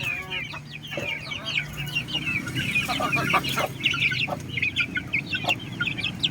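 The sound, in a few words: chickens clucking during feeding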